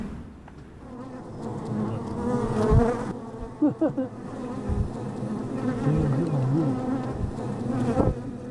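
Bees buzzing near a hive in a remote mountain valley in Korea, a steady moderate hum with wingbeat tones rising and falling, accompanied by occasional knocks and handling sounds close by.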